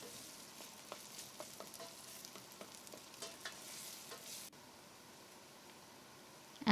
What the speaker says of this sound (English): Now it's time to add the ginger and the garlic and fry them together with the onions.